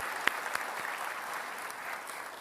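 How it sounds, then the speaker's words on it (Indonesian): Clapping from a studio audience greets two candidates at a Jakarta governor's election debate, a moderately faint, even patter of many hands with a few sharper individual claps standing out near the start. "mempersilahkan tepuk tangan kepada kedua kandidat yang akan kita ajak diskusi malam hari ini"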